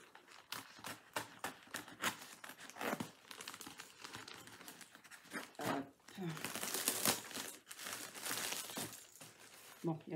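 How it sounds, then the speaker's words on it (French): Bubble wrap packaging is handled close up while a parcel is unboxed, giving loud crinkling, rustling and crackling bursts in uneven clusters, with a person speaking now and then. "Bon, il y a quand même pas mal de papier bulle."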